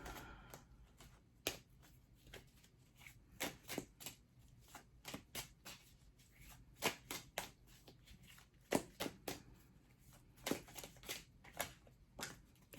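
Tarot cards are shuffled by hand in quiet, soft riffling and flicking bursts, irregular and close but faint, with no talking.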